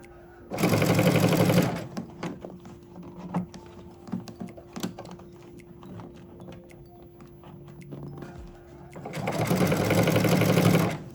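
A sewing machine stitches satin stitches on a fabric tissue box cover in two loud, dense bursts at the start and end, with quieter clicks and handling of the fabric in between.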